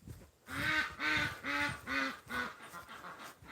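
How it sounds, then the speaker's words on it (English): A series of five loud, evenly spaced nasal duck quacks, close by and clear, with a rhythmic repeating pattern and no speech over them. "The ducks are laughing. They think it's funny."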